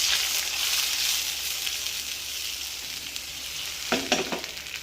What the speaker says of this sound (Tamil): அரைச்சி வச்சுருக்க பேஸ்ட்டை இதில் ஊற்றிடுவோம்